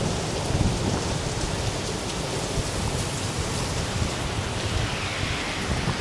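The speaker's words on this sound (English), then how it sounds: "That's a lot of rain." Heavy typhoon rain pouring down outdoors in Shanghai, a dense, loud, continuous hiss of drops on surfaces with a low rumble underneath and no voices.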